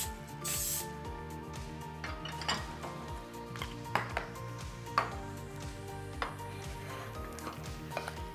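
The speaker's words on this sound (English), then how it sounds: "We're going to spray the parchment paper with a little bit of vegetable spray." Vegetable cooking spray hisses in a short burst onto parchment paper lining a pan, followed by light clinks and taps of kitchen utensils over a steady background hum.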